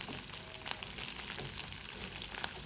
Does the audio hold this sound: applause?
no